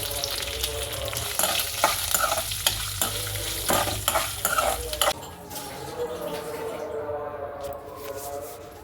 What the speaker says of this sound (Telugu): ఇంకానండి తాలింపు వేసాను.